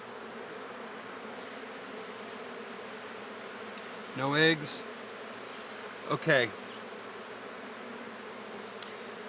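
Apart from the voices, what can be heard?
honeybees buzzing in an open backyard hive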